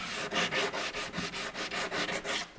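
A Bosch EXPERT abrasive is rubbed by hand along a wooden edge to round it off, giving about a dozen rhythmic, close scraping strokes back and forth with no talking.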